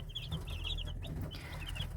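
Chinese Silkie chickens cluck close by in a short run of repeated clucks over a low, steady background rumble.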